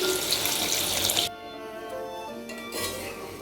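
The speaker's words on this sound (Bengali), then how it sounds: "আলু কষানো হয়ে গেলে জল দিয়ে দিচ্ছি" Water pours steadily into a pan of frying potatoes and spice for a Bengali potato curry, a loud rushing splash that cuts off, followed by a softer sizzling hiss and a brief second pour.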